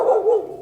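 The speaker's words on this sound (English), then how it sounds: "I keep moving so I don't upset that dog." A dog gives one short, mid-pitched bark or yelp in an alley, fairly close and loud, with no one talking over it.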